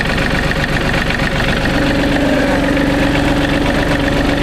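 A John Deere 3032E compact tractor idles nearby with a steady, loud, low diesel rumble and a constant vibrating drone; there is no talk over it.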